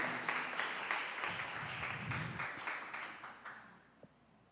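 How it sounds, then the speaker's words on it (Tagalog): A church congregation claps together in a steady, moderately loud round of applause that gradually fades out. "Pumalakpak po tayo sa ating pinakamamahal ng Panginoon."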